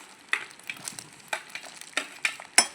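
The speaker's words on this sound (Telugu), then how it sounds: "టమాటాలు చిన్న చిన్న పీసులు కట్ చేసి అవి వేసుకుంటున్నాను" Small chopped tomato pieces fry in a pan, giving soft sizzling with repeated sharp crackles and pops scattered at an uneven rhythm, close and moderately quiet, with no voices.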